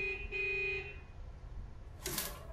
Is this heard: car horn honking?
yes